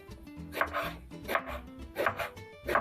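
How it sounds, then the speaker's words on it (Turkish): Steady knife chopping of eggplant into cubes on a cutting board, four crisp close strikes at an even pace with soft low background noise and no talk. "ortadan ikiye kesip küp küp patlıcanlarımızı"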